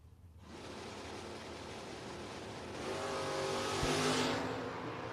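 Drag racing launch of a Mustang and a Camaro side by side at a bracket race, with two engines roaring steadily and swelling louder as they pull away, tire noise mixed in, no talk over them.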